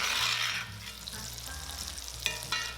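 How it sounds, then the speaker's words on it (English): Steak pan-frying in butter with garlic, rosemary and thyme, a steady close sizzle and spatter with occasional louder pops, no talking. "we're gonna pan fry for another 5 minutes"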